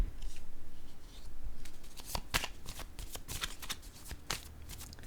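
Cards riffled and drawn from a second deck during a tarot-style reading, a run of crisp papery flicks and snaps, close and moderately loud, with no talk.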